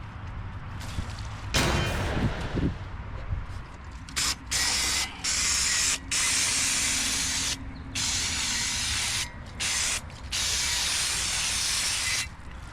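Brake cleaner sprayed onto a rear brake part of a 2005 GMC Envoy in bursts, loud hissing blasts broken by short pauses, following a brief clunk of handling the part.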